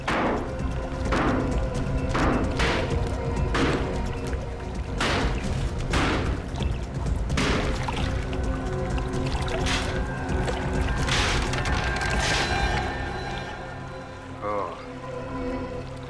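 Workers smash open a water tank that hides a second tank inside. Irregular heavy thumps and cracking blows land close by in quick bursts, then ease off toward the end over a low background rumble.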